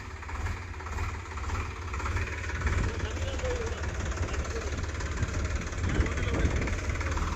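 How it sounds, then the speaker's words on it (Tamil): A JCB excavator's engine rumbles steadily and fairly loudly nearby with a low, continuous drone, while people talk over it. "அழுத்துனா ரேஸ் பண்ணு. நல்லா ரேஸ் பண்ணுங்க."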